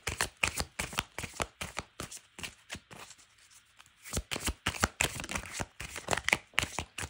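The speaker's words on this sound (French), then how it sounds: "on va mélanger les cartes et on va voir qu'est-ce qui ressort" Tarot cards shuffled by hand, a close, crisp run of riffling and slapping bursts in an uneven rhythm, with a brief quiet pause partway through before the shuffling resumes.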